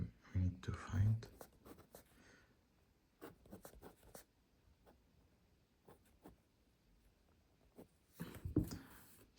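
Pen or pencil scratching across paper while a discrete math homework problem is written out by hand, soft intermittent strokes in bursts with quiet gaps, close and faint.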